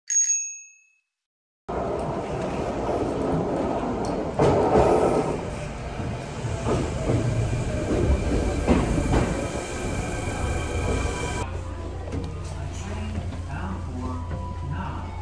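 Riding a commuter train in Japan to the nearest station on New Year's Day: a bright bell chime, then steady rumbling car noise with rail clatter and squeal, close and continuous.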